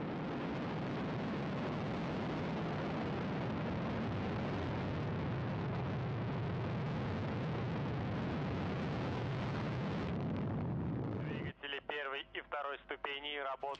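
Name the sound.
Soyuz rocket liftoff carrying Progress 94 cargo vehicle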